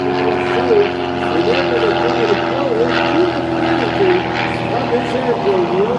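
Aerobatic propeller airplane flown at the 2024 First State Airshow, a loud steady engine drone with a wavering pitch as it maneuvers through a loop, continuing under an announcer's commentary over the PA.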